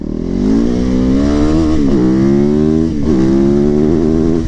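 A Supermoto motorcycle engine revs hard and loud up close, its pitch climbing steadily, dipping briefly at each shift and then rising again in a continuous throaty roar.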